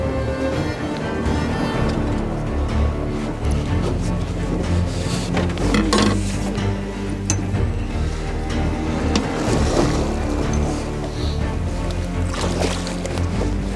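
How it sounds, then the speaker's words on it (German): A boat engine drones steadily throughout on the sea, with salt water sloshing and splashing around the hull and occasional knocks close by. "Vorsicht, Motor, Christoph!"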